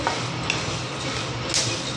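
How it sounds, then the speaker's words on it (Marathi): Horse gram dry-roasting in a pan gives a steady, close crackle and sizzle with light stirring scrapes throughout, without any voices. "आता हे तडतड उडायला लागलेत आपले हे हुलगे आहेत ना, हे तडातड उडायला लागले बघा"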